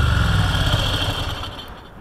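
A Moto Guzzi Breva 1100 motorcycle engine roars loudly at high revs, then the pitch and volume sag as the throttle drops back over about two seconds, with no voices.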